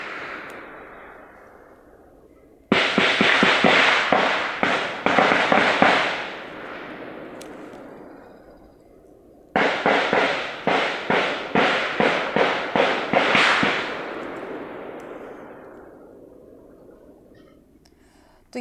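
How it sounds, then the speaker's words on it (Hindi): Two long bursts of rapid gunfire crackle during a Naxal encounter in Sukma's Bhandarpadar area, each a dense string of sharp cracks with echoes trailing off between volleys. "किस तरह से गोलियों की तड़तड़ाहट यहाँ पर सुनाई दे रही है"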